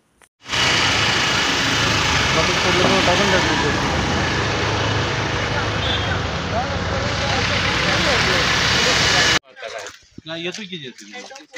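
Heavy vehicle engines rumble loudly and continuously nearby as JCB backhoe loaders and trucks idle on the Mahabaleshwar road at a landslide site, followed by a short stretch of people talking.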